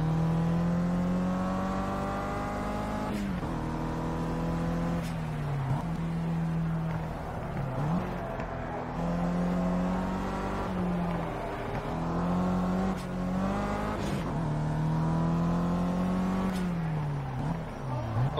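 A race car's engine in the Project CARS video game drones loudly through repeated gear changes, pitch climbing and dropping in steady cycles of acceleration and shifting.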